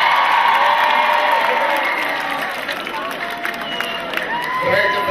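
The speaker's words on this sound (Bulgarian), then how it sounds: "Аплодисменти за господин Марешки." Audience at a Bulgarian outdoor concert claps and cheers in a sustained, dense wash of crowd noise, with scattered whoops and shouts rising over steady applause throughout.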